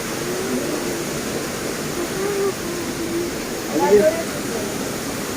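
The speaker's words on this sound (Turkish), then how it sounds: "şelale" A waterfall roars as a steady, broad rushing wash, near and fairly loud, with faint indistinct voices mixed in beneath it.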